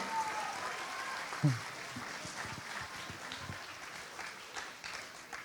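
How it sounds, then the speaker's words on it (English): Scattered, fairly faint clapping from a crowd at a school annual day event, continuing steadily for several seconds with a few louder claps mixed in. "Let's give a big round of applause once again."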